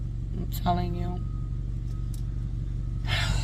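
A loud motor engine drones steadily throughout, with a brief rising burst partway and a hiss near the end; voices are faintly mixed in.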